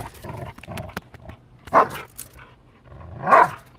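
A big dog barks in two loud, deep bursts a second and a half apart, close by, amid rustling and lower grumbling sounds between them.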